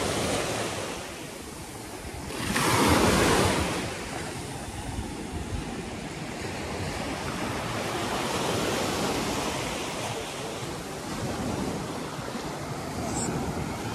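High-tide sea waves wash continuously onto Crystal Bay beach on Koh Samui, a steady surf roar with one louder surge early on and a light wind hiss throughout.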